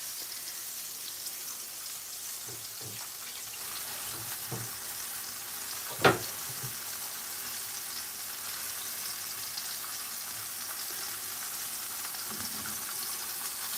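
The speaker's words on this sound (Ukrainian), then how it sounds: "смажу відбивні" Steady, soft sizzling of pork chops frying in a pan, a continuous crackle with a brief louder pop midway; no talking.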